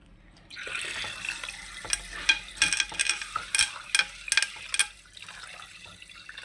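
Rice being washed by hand in water, with swishing, stirring and splashing that grows busier and louder in the middle and then settles, heard up close with no talking.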